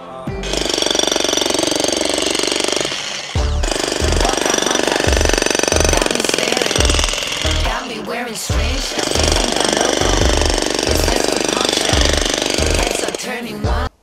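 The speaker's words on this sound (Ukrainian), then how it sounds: "перевіримо, за скільки часу ось цей півметровий кусок бетону розіб'є цей відбійник" A ProCraft PSH2600 brushless jackhammer breaks a half-metre reinforced concrete block with wire mesh inside, loud rapid hammering in long bursts broken by short pauses, with a voice speaking in places.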